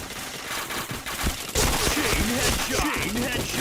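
Rapid bursts of gunfire from the video game Point Blank crackle in quick volleys, growing louder and denser halfway through, with brief voices mixed in.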